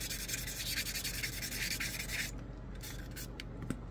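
A sanding sponge scrubs back and forth across a model airplane fuselage, a close, steady rasping rub for about two seconds that then breaks into a few short separate strokes.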